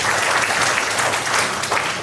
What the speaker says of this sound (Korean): 다시 한번 큰 박수 부탁드리도록 하겠습니다